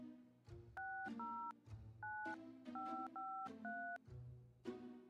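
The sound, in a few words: telephone dialing and ringing in video game My Winter Car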